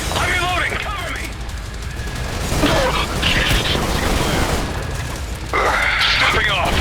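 Bursts of gunfire and booming impacts in the shooter video game Trepang2, loud and dense, with shouting voices breaking in between the volleys.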